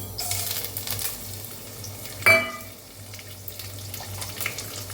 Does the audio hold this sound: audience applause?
no